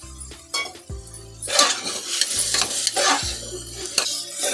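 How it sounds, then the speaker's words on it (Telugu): Vegetables and masala frying in oil in a pan while a utensil stirs and scrapes against the metal, with clinks and a soft sizzle running throughout, no voices. "వెజిటేబుల్స్ అంతా బాగా ఫ్రై అయ్యింది. అది ఆయిల్లో ఫ్రై అయితే టేస్ట్ ఎక్కువగా వస్తుంది."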